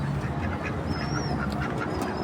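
Several ducks quack repeatedly in short bursts over steady outdoor background noise, with a faint high whistle-like tone partway through.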